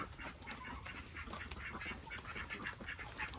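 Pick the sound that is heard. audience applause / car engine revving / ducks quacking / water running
ducks quacking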